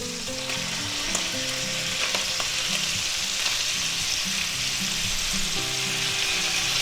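Vegetables tossed into a ground beef stir fry, hissing in a loud, dense, continuous sizzle close up, with a few faint clinks of utensils and no voices.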